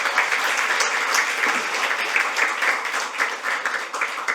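Many hands clap together in a hall as guests are welcomed at a legislative forum, a steady, fairly loud applause that holds its level throughout without any talk.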